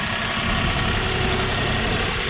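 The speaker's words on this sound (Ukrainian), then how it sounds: "завантажуємо тракторця." A heavy Shifeng 244 tractor engine idles steadily and loudly nearby while being loaded, a continuous low rumble with a faint knocking rhythm and no voices.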